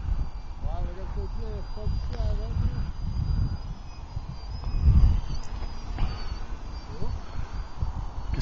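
Model biplane on its maiden flight, a steady buzzing engine drone heard from a distance outdoors, with people talking nearby throughout.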